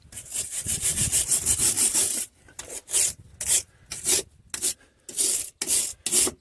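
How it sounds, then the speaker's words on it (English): Harsh scraping strokes on metal, first rapid and continuous, then slower separate rubs with short pauses, as the threads of a car suspension pinch bolt are scrubbed clean. "I'm going to clean up what I can of the threads."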